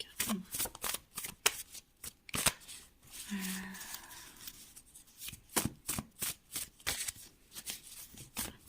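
Tarot cards being shuffled by hand: a series of quick, crisp riffling and flicking bursts in irregular rhythm, close and fairly soft, with a brief voice speaking partway through.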